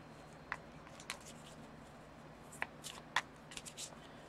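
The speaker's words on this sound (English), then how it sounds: "We're just going to give this a quick shuffle." Someone slowly shuffles a deck of Exploding Kittens cards, making a handful of short, faint riffling snaps spaced unevenly over a few seconds in a quiet room.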